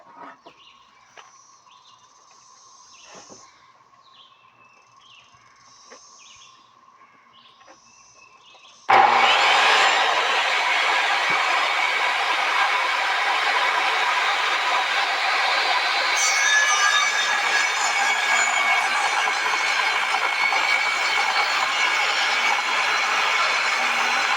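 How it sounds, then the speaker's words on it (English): Quiet ambience with chirping birds gives way to a loud power saw biting into cedar wood, a sustained harsh whine that runs without pause to the end. "since this blade's not tall enough, I'll have to flip it over and cut some more."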